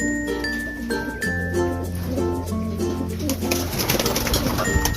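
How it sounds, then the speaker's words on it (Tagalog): A racing pigeon, just arrived home from a fun race, coos in low repeated throaty phrases close by, with other birds calling and some light clinking around it. "Dumating yung ibon namin."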